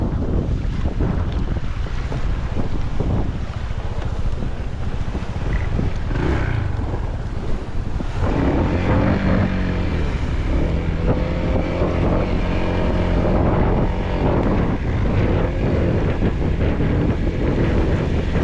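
A faltering boat motor drones steadily beneath heavy wind buffeting the microphone and the wash of waves off the Tanauan baywalk, Batangas, loud and continuous throughout.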